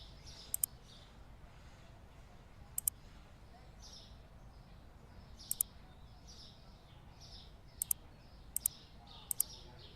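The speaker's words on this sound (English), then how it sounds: "The birds are chirping." Birdsong in the supermarket simulator video game: short, sharp chirps spaced irregularly over a faint, steady background.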